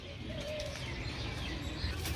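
Pigeons outdoors with soft cooing and light fluttering over a constant, fairly loud background hum, the calls faint and intermittent.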